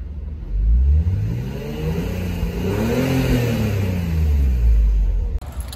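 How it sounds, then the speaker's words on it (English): A 1990s BMW M3 with the S52 engine revving repeatedly, rising and falling engine tones sweeping up and down in close, loud blips with no talk over them. "the S52 motor that you would find on the BMW M3s of the 90s."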